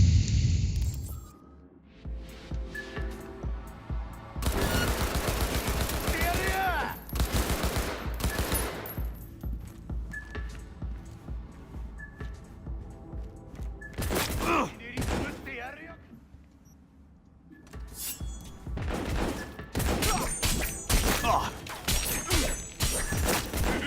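Assault rifle fire in Cyberpunk 2077, repeated bursts of rapid automatic shots in several volleys separated by brief pauses, loud and close, with occasional impacts.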